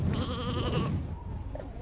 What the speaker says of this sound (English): the sheep are bleating like crazy